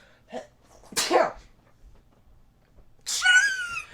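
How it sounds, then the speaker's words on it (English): A short breath, then a loud sneeze, and after a pause a second, higher-pitched sneeze, close to the microphone in an otherwise quiet room. "I'm about to sneeze."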